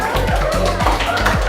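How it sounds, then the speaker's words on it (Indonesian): An audience claps after a classroom presentation, steady dense applause close by, with a low rhythmic thumping underneath throughout. "Beri tepuk tangan."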